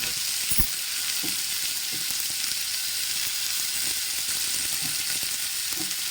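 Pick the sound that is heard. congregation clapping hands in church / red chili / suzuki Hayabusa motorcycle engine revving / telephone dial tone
red chili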